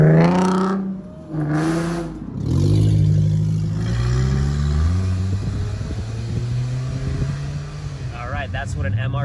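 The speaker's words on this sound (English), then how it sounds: "that's what an MR2 sounds like." A Toyota MR2 engine revving and pulling past on a canyon backroad, loud and close, with rising and falling pitch sweeps as it accelerates and shifts, voices talking over it.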